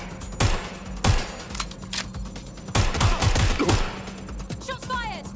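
Gunfire in Watch Dogs Legion comes as loud, close bursts of rapid shots, clustered in sharp volleys with brief gaps and a faint voice near the end.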